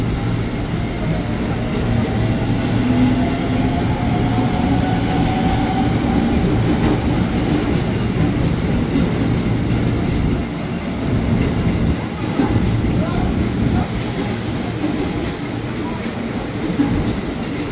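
A commuter electric train enters the platform at Tanah Abang station, rumbling and clattering steadily with wheel squeal and a continuous roar, loud and close throughout.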